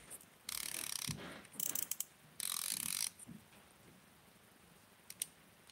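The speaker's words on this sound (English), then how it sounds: "It does have a drag clicker." Drag clicker on an AliExpress baitcasting reel, heard as quiet bursts of rapid ratcheting clicks in two main runs with a few short spurts between, close up with no talking.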